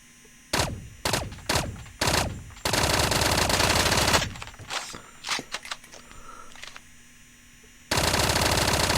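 A FENNEC submachine gun firing in a ranked video game match: several short rapid bursts, then a long sustained stream of fire, scattered shots, a pause and another sustained burst, loud and close with mechanical clatter.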